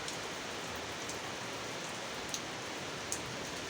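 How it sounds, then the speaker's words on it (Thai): Steady rain pours down in a constant hiss, with a couple of faint drips or taps standing out now and then. "ฝนตก"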